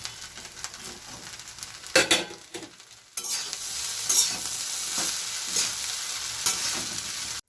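Fish pieces added to fried rice with tomato sauce in a hot pan, with a few loud scrapes and clatters of stirring, then a sharp burst into a steady close sizzle with occasional utensil knocks.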